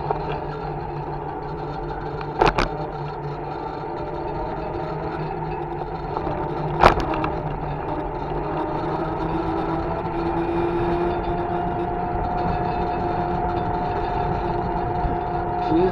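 A mobility scooter rides along at night with a steady motor hum and road rumble throughout, broken by two sharp clicks or knocks along the way.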